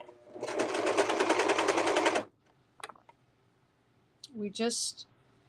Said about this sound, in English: you can see when we sew, we just do short little pieces. We don't sew fast.